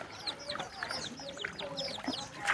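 Chickens and roosters cluck in quick overlapping bursts, close by and fairly loud, with no talking.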